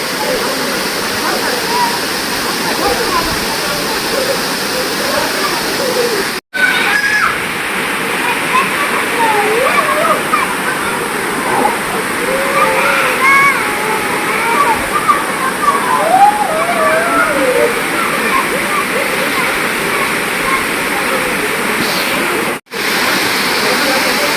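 The Nhavankond waterfall in Devgad, India, roars steadily and loudly after the first monsoon rain, a dense rushing wash of water with faint voices occasionally audible beneath it.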